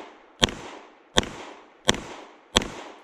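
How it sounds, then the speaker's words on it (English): Pistol shots fired at a target during an IDPA classifier stage: four loud, sharp cracks evenly spaced about three quarters of a second apart, each with a short ringing tail, no talk. "firing 5 rounds at the target, getting a slide lock, reloading, and then firing a second set of 5 rounds at the same target"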